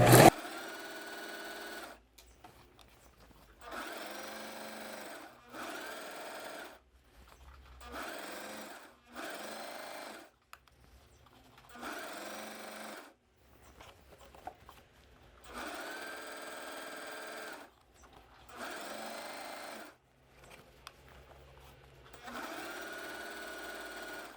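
A sewing machine stitches a dress seam along the band, running in repeated bursts of a few seconds each, separated by short quiet pauses. It is close and fairly quiet, with no talk.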